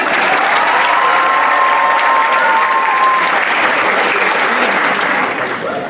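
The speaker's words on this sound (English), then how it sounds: "Let's give them another round of applause." Sustained, loud applause from an audience at a cultural showcase evening fills the hall, a dense even wash of clapping with faint crowd noise that holds steady for several seconds before easing slightly at the end.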